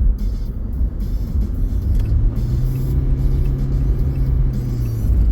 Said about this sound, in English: I'm glad that car turned